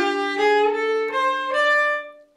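A cello plays a short sequence of sustained bluesy notes in a higher octave, bowed smoothly with rich harmonics, each note shifting pitch in a connected phrase, close and clear with no talking.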